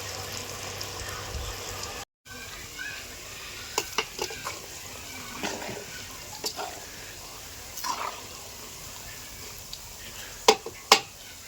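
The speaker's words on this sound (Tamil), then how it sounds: "இப்போ அப்படியே எண்ணெயில் போட்டு பொறிச்சு எடுத்தால் பகோடா ரெடி" Pakoda batter frying in hot oil gives a steady low sizzle with occasional brief clicks and sharper pops near the end, heard close up with no talk.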